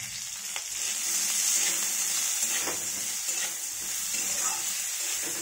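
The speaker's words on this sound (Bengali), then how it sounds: "এই আলু ভাজতে ভাজতে আমি অল্প পরিমাণ লবণ দিলাম যাতে আলুটা ধরে না যায়।" Potatoes frying in oil in a pan over a medium-high flame, a steady close sizzle broken by light scraping of stirring.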